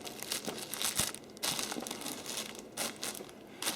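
Thin cellophane wrap on a gift basket crinkles and rustles in bursts as tape is tucked under its bottom edge, close by with no talking.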